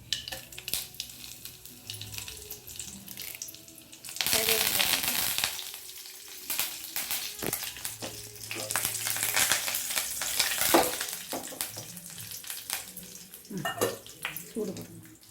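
Dried red chillies hit hot oil in a pan for a beetroot pachadi: after a few seconds of quiet clatter a loud sizzle bursts up close and keeps crackling steadily, broken by stirring scrapes and knocks.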